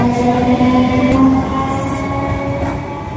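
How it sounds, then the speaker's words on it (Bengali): A train pulls into a station in New Town, Kolkata, a loud continuous rumble of rolling wagons with sustained squealing wheel tones and a faint horn-like note, no voices. "ট্রেন আসছে"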